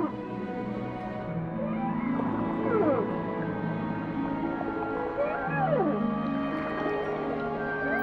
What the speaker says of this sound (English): Humpback whales are known for their songs